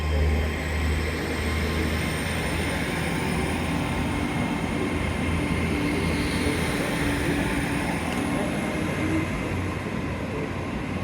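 Cornish Riviera passenger train bound for Penzance, a steady loud rumble of wheels and engine throughout, with a faint high whine above the continuous roar.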